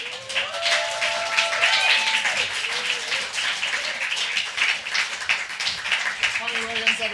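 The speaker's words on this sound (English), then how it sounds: "Please another round of applause." Audience applause at a poetry festival reading: sustained dense clapping throughout, with a voice speaking over it in several places.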